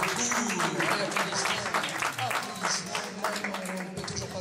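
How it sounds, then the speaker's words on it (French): Audience clapping and applauding at an equestrian show jumping event, a dense sustained patter of many hands filling the space, with a commentator's voice talking over it. "Vous pouvez applaudir, c'est la meilleure performance du moment."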